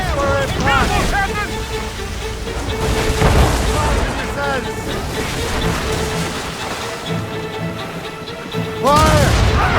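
Cannon broadsides and heavy impacts in a naval battle in Assassin's Creed Rogue, booming blasts over wind, waves and creaking ship noise, with shouting voices throughout and a loud burst near the end.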